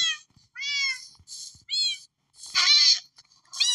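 A cat in the Minecraft video game gives a series of clear, high meows, about five separate cries with short gaps between them, and no other sounds.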